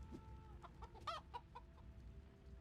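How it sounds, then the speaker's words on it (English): Chicken clucking from the Age of Empires II video game, a few short clucks amid steady game background sound, quiet and with no talk. "I hear the chicken noise."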